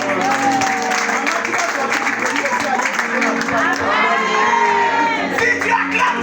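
Church congregation during a service applauding and cheering together, a dense, steady wash of clapping, whoops and shouts throughout, with voices calling out over the crowd noise.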